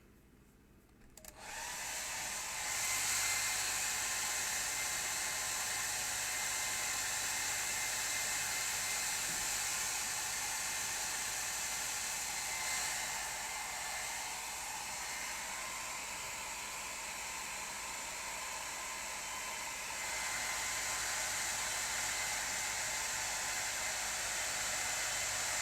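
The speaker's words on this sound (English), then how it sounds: "let's get the hairdryer on that" A hairdryer blows steadily onto a wet watercolour painting of river foliage, a loud, close, continuous rushing hiss that starts abruptly and holds for over twenty seconds with slight shifts in tone.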